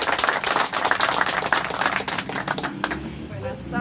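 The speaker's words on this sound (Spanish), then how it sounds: "Vamos a recibir con un fuerte aplauso." Applause at the swearing-in ceremony of a new environment officer at the Monción office, a close, brisk patter of many hands clapping throughout, with a voice briefly heard near the end.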